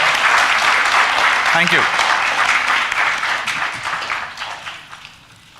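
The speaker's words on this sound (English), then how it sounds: "a big round of applause for the staff of Hayat" Audience applause for hotel staff at the valedictory function of the ISBA Conference 2016, loud sustained clapping from a full room, someone briefly speaking over it before the applause fades toward the end.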